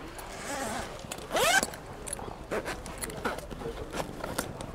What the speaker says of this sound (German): Ist natürlich der Reißverschluss gerade.